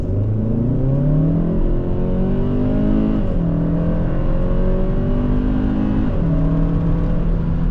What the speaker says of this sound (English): let's go put it to sport and give it some gas